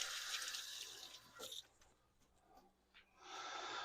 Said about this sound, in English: Rinse my hand off a little bit.